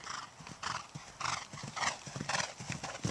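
Rhythmic clip-clop of horse hooves at a canter over a fence, up close and steady, with thudding footfalls and soft snorting; no voice is heard during the hooves.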